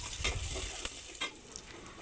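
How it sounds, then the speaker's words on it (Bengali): Onion, garlic and green chillies fry in oil in a pot until reddened, a continuous sizzle broken by several sharp scrapes of stirring, close and without talk. "এটা এখন আমি লাল লাল করে ভেজে নেব।"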